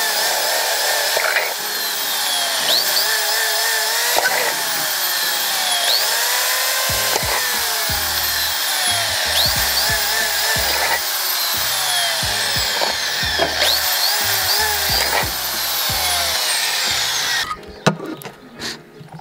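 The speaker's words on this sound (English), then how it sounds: "we drilled that hole that Nestor had to drill on his headlights" A power drill bores a hole in the plastic headlight housing of a Subaru WRX, running loudly and continuously with rising and falling whine as the bit bites, then cutting off near the end.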